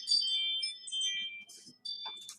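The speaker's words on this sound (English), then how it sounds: "Apparently, that was my phone." A phone ringtone plays in short bright melodic bursts with brief gaps, fairly loud and close, with no talking over it.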